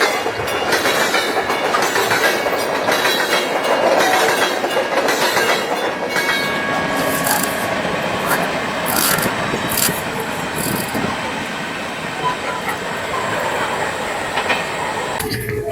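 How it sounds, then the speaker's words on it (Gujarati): A children's amusement train ride at the Mahuva festival fair clatters and rumbles along its track, with rhythmic wheel clicks and rubbing metal squeals, loud and continuous with no voices over it. "જે બાળકો જોઈ શકે એવી સુંદર મજાની એક અહીં ટ્રેન બનાવવામાં આવી છે"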